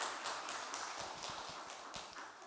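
A congregation claps in church during Sunday worship with faint, scattered applause, and a few sharper individual claps stand out toward the middle and end.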